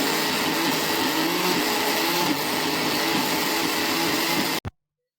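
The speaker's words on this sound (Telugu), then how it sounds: "వదినేమో అల్లం పేస్ట్ వేయడానికి మిక్సీ అయితే సర్దుతుంది" A kitchen mixer grinder whirs steadily as it blends ginger into paste, a loud, continuous motor drone that runs for several seconds and then cuts off abruptly, leaving silence.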